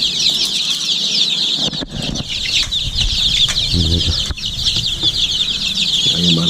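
Free-range village chickens cluck steadily and close by, with bursts of wing flapping and scuffling among the flock, loud and continuous with no talking.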